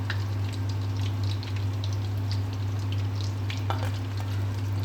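Chicken cutlets fry in hot oil, giving a steady, close sizzle with scattered crackles and pops above a constant low hum.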